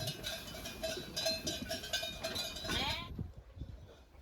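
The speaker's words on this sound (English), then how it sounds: "And here are the rams" Sheep and rams in a farm pen, with clanking bells and shuffling at close range and a single bleat near the end.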